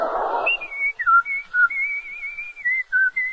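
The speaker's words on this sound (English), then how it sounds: "No wonder he's whistling." A man whistles a bright, wandering melody in a 1957 radio advertisement for Rose Oldsmobile, clear and close, with short phrases and brief pauses after a burst of noise at the start.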